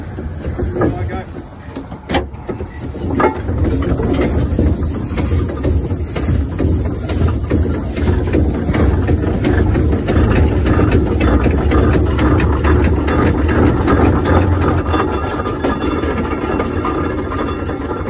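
A 1914 Fowler showman's steam engine runs with a low, heavy chugging rumble that swells after a brief quieter start and stays strong, with people talking intermittently nearby.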